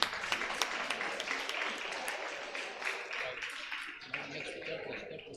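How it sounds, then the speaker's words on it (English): An audience at a school award function for Sri Adishankara Day claps for a teacher and her students, producing a fairly dense spread of applause that holds steady and then thins toward the end. "Round of applause for Vidyama and the students."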